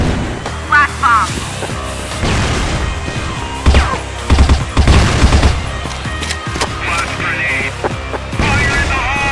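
In the shooter game CrossFire, a flash bomb goes off among rapid bursts of gunfire and sharp booms, the loud blasts clustered in the middle of a busy firefight.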